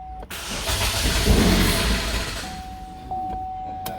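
A Chevy Equinox engine, in for diagnosis and replacement, cranks and catches, then settles into a steady, moderately loud idle with a faint high tone running through it.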